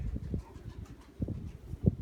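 Pigeons coo softly nearby in a few short, low, throaty bursts, separated by quiet gaps, with no voices.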